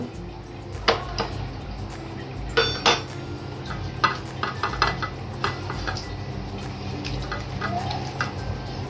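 Prawns being hand-mixed with turmeric and salt for a prawn curry, with soft squelching and a scattering of light clinks against a dish, some sharper taps standing out, close by and steady with no talk.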